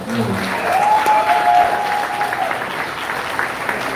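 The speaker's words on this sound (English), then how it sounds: "Can we do a round of applause for just the entire Blexit team?" Crowd at a conservative event applauding a small team, a steady wash of clapping with a brief whoop and some murmuring voices near the start.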